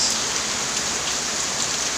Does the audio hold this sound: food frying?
no